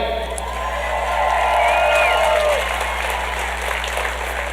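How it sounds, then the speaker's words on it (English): A crowd at a celebration of life in Garden Grove, California gives a speaker a loud, sustained round of applause, mixed with a few whoops and cheers, swelling and then holding steady. "Everybody give a huge round of applause, everybody, for Micah."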